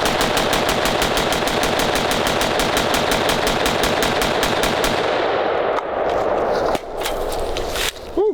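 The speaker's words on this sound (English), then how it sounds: "I think you want to just send some rounds downrange?" A 5.56 Sig Spear LT rifle firing a long, rapid string of rounds downrange at an outdoor range, loud and evenly spaced, followed by a few separate shots and clatter near the end.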